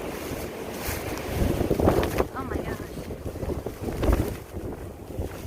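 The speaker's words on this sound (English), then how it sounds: "As you can see, it's windy." Strong wind buffets the microphone in loud, gusty roars on the Appalachian Trail, with a poncho flapping and a person briefly exclaiming under it.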